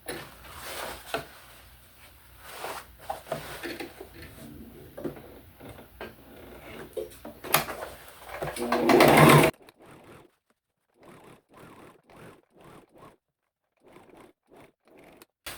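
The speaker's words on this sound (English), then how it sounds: "We are now going to top stitch. Top stitch to the pocket, not the pants." A home sewing machine top stitches a shorts pocket in a continuous mechanical whir with scratchy fabric handling, ending in a loud burst. Quiet, faint clicks and rustles follow.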